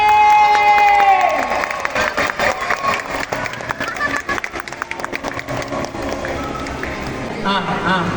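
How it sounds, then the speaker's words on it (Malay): An audience at a children's nasyid competition breaks into clapping and cheering, with children shouting and lively crowd noise that follows a sliding tonal sound at the start, with voices mixed throughout. "Lagi tepuk tangan lagi."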